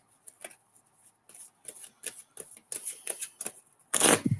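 Tarot cards being shuffled by hand: a run of soft, quick papery clicks and riffles, close and fairly quiet, ending in a louder, brighter flurry as the deck is squared.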